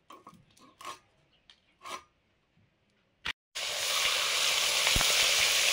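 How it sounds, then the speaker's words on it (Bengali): After a few scattered scrapes and knocks, a loud, steady sizzle bursts in as rekha fish hits hot oil and keeps frying vigorously. "মাছ ভাজা শুরু করে দিয়েছি।"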